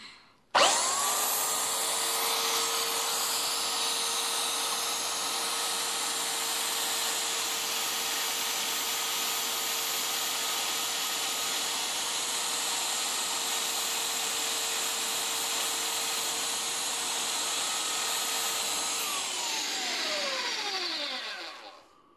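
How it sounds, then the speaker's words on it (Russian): A belt sander grinds a drill bit to sharpen it, spinning up abruptly into a loud, steady whine with a high grinding rasp, then winding down at the end. "Я обычно это делаю ленточной шлифовальной машиной."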